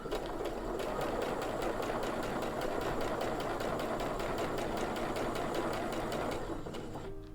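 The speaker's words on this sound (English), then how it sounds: "That's going to help to feed the strip through the machine a little bit more evenly." A sewing machine feeds a quilt strip for a beginner baby quilt through evenly, running as a continuous, close rhythmic whir with a rapid needle pulse for about seven seconds, then slowing to a stop.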